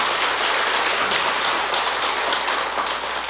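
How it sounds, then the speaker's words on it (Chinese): A lecture-hall audience claps hands in a dense, steady burst that holds loud and unbroken throughout, with no voices heard over it. "不能随便拍手哎！"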